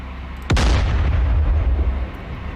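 A single heavy naval gun shot from the DCS World combat game fires at a ship, a sharp loud blast followed by a deep rumbling decay that fades over about two seconds.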